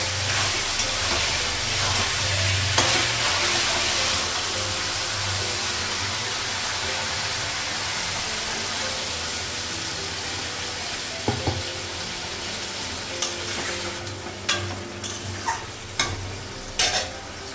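Meat cooking in spices in a pan on a home stove, with a steady loud sizzle and hiss throughout, then a few sharp utensil knocks and scrapes toward the end.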